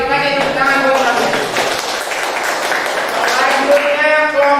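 Class audience applauding after a group presentation during a teaching practice session, a steady dense clapping wash lasting several seconds with voices talking over it.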